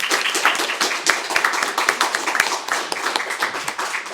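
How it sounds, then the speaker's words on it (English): An audience at a library author event applauds warmly for several seconds, with dense overlapping hand claps at a steady level. "Can we have a round of applause"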